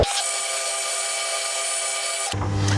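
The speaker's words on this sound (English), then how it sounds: "And now let's drill the front face with the centre drill." A centre drill cuts into the front face of a brass workpiece on a lathe, a steady high whine with tonal ringing held for over two seconds, then a sudden change to a lower, rougher machine hum.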